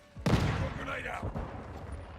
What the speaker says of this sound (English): Decoy grenade out.